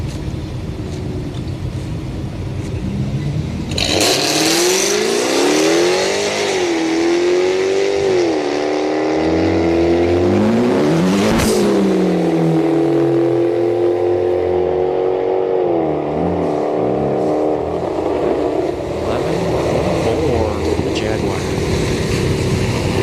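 A Jaguar and an Audi launch side by side at a street night drag race at Orlando Speed World, engines roaring loudly through rising gear-by-gear revs after a quieter idle, with a loud crowd and commentary audible.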